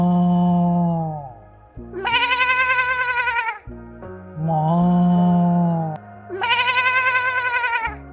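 A goat bleats in long, loud, wavering calls, close and alone, four drawn-out cries alternating between lower and higher pitches.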